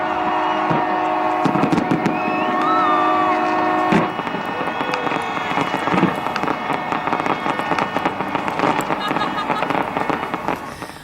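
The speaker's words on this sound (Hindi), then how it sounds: "नए साल का स्वागत न्यूजीलैंड में पूरे जश्न और आतिशबाजी के साथ।" New Year fireworks in New Zealand crackle and pop in dense, rapid bursts, loud and continuous, mixed under a voice talking over them.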